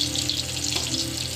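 Amul butter sizzles in hot oil in a pan for restaurant-style butter chicken, a steady close frying hiss with no talking over it.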